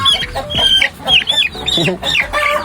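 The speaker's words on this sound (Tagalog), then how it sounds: "Native chicken." Native chickens cluck and squawk up close, loud and busy, with overlapping calls over about three seconds.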